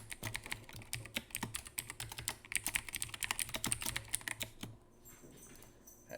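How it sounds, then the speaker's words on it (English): Loud computer keyboard clicking, rapid close-up keystrokes in quick uneven bursts for several seconds, then a pause and a few final taps, with no talk over it. "You guys can probably hear my loud-ass keyboard clicking."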